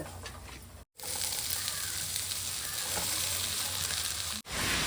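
Spinach greens dropped into a hot pan fry with a loud, steady broadband sizzle that fills nearly the whole stretch, broken by two brief silent gaps, with no talking.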